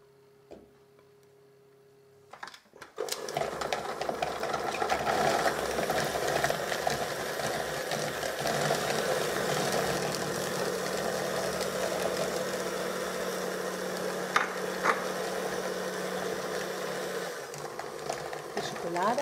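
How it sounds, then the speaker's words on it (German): A wire whisk beats butter until fluffy in a bowl, a steady scraping, rattling whir that starts after a couple of seconds of quiet and runs continuously, fairly close, with a few sharper clicks along the way. "die Butter mit dem Schneebesen schaumig rühren"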